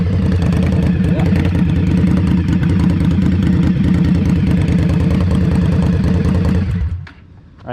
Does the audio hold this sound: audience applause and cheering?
no